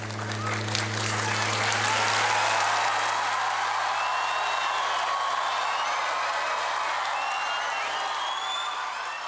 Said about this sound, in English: the audience applauded the little angels and the beautiful performance they presented on the stage.